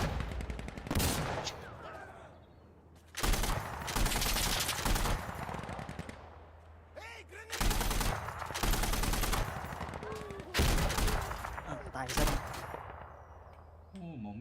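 Bursts of automatic rifle fire in the tactical shooter Insurgency: Sandstorm, loud and near, coming in several long volleys separated by short gaps, with someone speaking in between.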